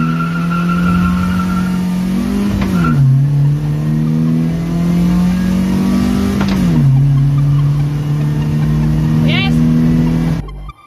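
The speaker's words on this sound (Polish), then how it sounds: "To jest silnik E36, który ostatnio kupiliśmy." A BMW E36 1.8 car engine of 140 horsepower revs up and down in sustained, rising and falling waves, loud and close, with no one speaking.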